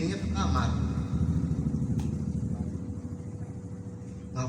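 Voice imitating a motorcycle engine warming up in the morning before heading out for ojek work, a steady rumbling drone with rhythmic pulsing, loud and close, carried on by a speaking voice.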